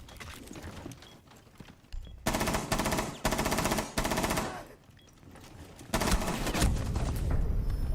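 Automatic gunfire in a shooting video game, loud sustained bursts of rapid fire broken by short gaps, dense and close throughout.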